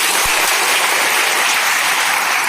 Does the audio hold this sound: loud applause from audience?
yes